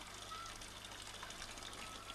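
Water runs from an old stone fountain dating from 1936, a faint, steady trickle and splash that stays even throughout.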